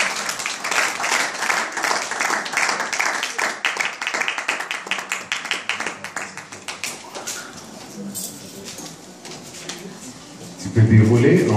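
A church congregation claps together during a French-language service, steady rhythmic handclaps fading toward the middle before a low rumble and voices close the passage.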